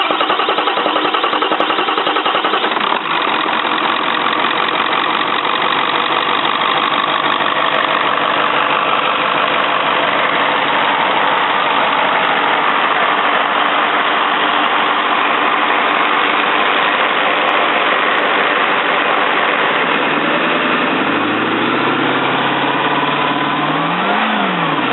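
A first-generation Ford Powerstroke diesel engine with loose exhaust runs steadily after starting, a loud, dense mechanical clatter throughout, with a rise and fall in revs near the end.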